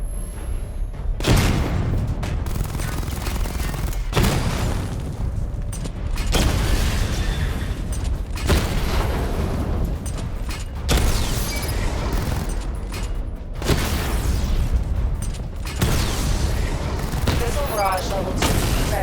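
Continuous missile barrage launches and explosions from the Batmobile in Batman: Arkham Knight, a dense, loud rumble of booms and blasts that surges in waves for the whole stretch, with occasional voice lines over it.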